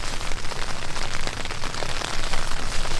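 Heavy rain and hail pound steadily onto a surface at a beach camp during a storm, a loud, dense, unbroken hiss and patter with no voices.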